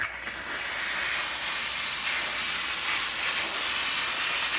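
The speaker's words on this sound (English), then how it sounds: "let's go ahead and spray it first with a steam." A BISSELL SteamShot Deluxe steam cleaner sprays pressurized steam on grout, a steady, loud continuous hiss after a brief start, with no voices.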